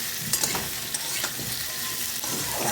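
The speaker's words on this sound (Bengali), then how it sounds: "আলু আর পেঁয়াজটা আমার ভাজা হয়ে গেছে।" Potato and onion fry in oil in a pan while being stirred, a close, continuous sizzle broken by scraping and clinking stirs.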